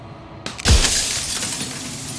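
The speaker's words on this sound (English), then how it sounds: "And then another crack forms, and another, turning the mirror into jagged shards of broken glass." A mirror cracks and bursts into jagged glass shards in the game Slay the Princess: a sharp crack, then a loud crash of breaking glass followed by a long, fading shimmer of tinkling fragments.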